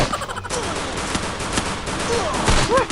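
Rapid bursts of gunfire from the Free Fire battle-royale mobile game crackle densely throughout, sharp overlapping shots over a busy in-game backdrop with a few brief synthetic tones near the end.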